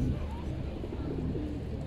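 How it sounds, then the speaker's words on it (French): Pigeons coo softly in a brief burst of low, rolling calls, faint against background noise. "J'ai des pigeons partout là, je vous jure je suis en thérapie hein."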